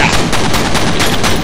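Rapid automatic gunfire from a favorite weapon in the shooter F.E.A.R. Combat, a loud close burst of evenly spaced shots repeating without a break.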